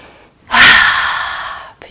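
A deep breath in during a yoga breathing exercise: one long, loud, airy inhalation lasting over a second, close to the listener, rising quickly and slowly fading out.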